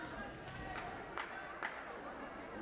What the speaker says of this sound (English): Loud crowd on hand here tonight.